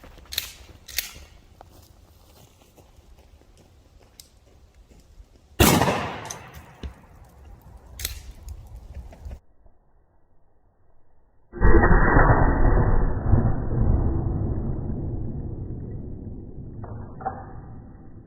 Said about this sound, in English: that was after the shotgun blast